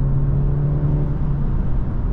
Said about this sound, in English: And I like the sound of this engine too.